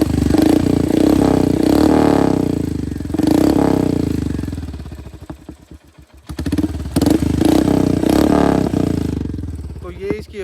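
Royal Enfield Hunter 350 motorcycle with a loud aftermarket silencer exhaust, running up close with a deep thumping beat that rises and falls in revs, a brief dip near the middle before it picks up again.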